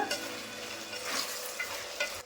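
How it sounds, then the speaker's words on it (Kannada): Chopped tomatoes with turmeric and salt sizzle and are stirred in a pan for sambar, a soft steady frying hiss with faint scraping strokes, close and quiet, with no talking. "ಟೊಮೊಟೊನ ಸ್ವಲ್ಪ ಬಾಡಿಸ್ಕೊಂಡ್ಬಿಡೋಣ."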